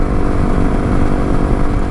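A Honda CRF300L Rally motorcycle engine drones steadily at about 6,000 rpm while riding at 100 km/h on a bitumen road, a loud, continuous buzzing hum mixed with wind rush and no speech.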